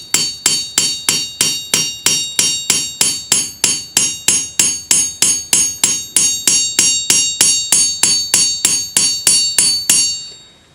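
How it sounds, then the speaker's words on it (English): Rounded face of a planishing hammer striking a wavy-edged anticlastic metal bangle: steady, evenly spaced ringing metallic blows, about three per second, loud and close, with a bright lingering ring after each hit. "I'm going to use just the rounded side of the planishing hammer."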